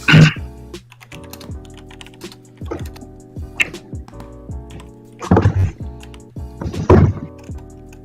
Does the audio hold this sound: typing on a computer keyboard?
yes